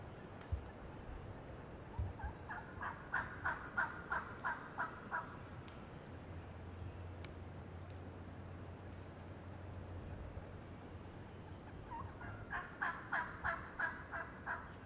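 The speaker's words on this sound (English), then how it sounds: "getting us on a couple of gobblers that he'd spotted in a pasture the day before" Wild turkey gobblers in an open pasture let out two bursts of rapid, rattling gobbles, one near the start and another near the end, with a quiet outdoor stretch between them.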